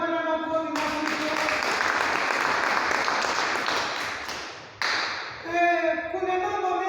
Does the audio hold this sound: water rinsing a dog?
no